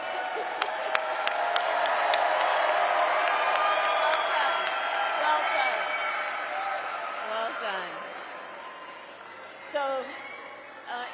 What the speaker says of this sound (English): Give them an applause, right?